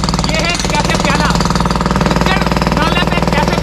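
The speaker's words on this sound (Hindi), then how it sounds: "अभी ड्रिल चल रही है जिसकी वजह से आवाज कम आ रही है" A jackhammer drill pounds concrete during an anti-encroachment demolition at Gujjar Nala in Karachi, a loud rapid steady hammering close by, with someone talking over it throughout.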